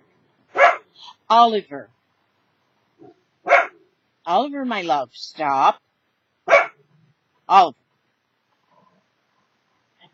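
A pet dog barks indoors at close range, several sharp separate barks spread over about eight seconds, with someone speaking briefly between them.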